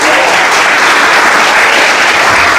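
A church congregation bursts into loud, dense applause, continuous rapid clapping filling the room from start to finish with no break.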